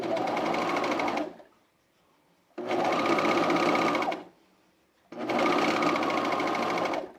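A sewing machine stitches the collar of a half-zip fleece sweater in three loud, steady runs of rapid whirring, each lasting about one and a half seconds, separated by short quiet pauses.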